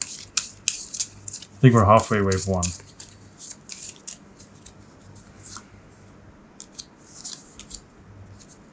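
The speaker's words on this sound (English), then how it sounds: "and shuffle again." Cards for a solo board game are shuffled, a short burst of riffling and snapping near the start, then quieter rustling and handling of the deck while someone talks.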